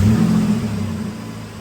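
A 2009 Dodge Nitro engine with harsh transmission shifting rumbles steadily and close up, a low idle drone that eases slightly over a second and a half, heard alone.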